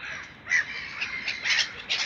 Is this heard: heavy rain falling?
no